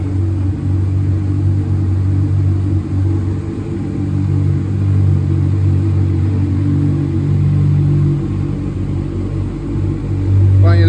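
A 2008 Honda CB 1000R inline four-cylinder motorcycle engine idles with a steady, low throbbing rumble, close and continuous, with a brief rev near the end.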